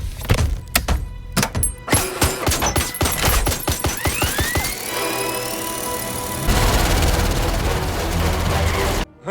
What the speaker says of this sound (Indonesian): Aston Martin yang bisa nembak peluru dari lampu depannya cuy